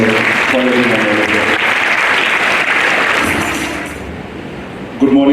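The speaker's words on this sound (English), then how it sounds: "Everyone, a huge round of applause for everyone." Audience applause at a school Teachers' Day celebration, a dense, loud clapping from a crowded hall that gradually thins and fades, with a voice speaking over the start and again at the end.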